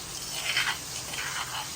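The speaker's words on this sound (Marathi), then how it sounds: "हे फ्राय करून घेतो नाही" Food sizzles and crackles in a hot tawa (griddle pan) in a home kitchen, a close, steady hiss with soft bursts of spitting oil.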